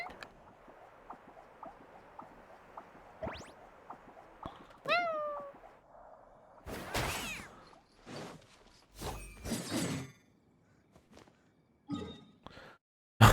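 Cat meows from the video game Genshin Impact, a short series of small chirpy mews along with a sharper rising cry, mixed with game effects and bursts of background noise, with no talking.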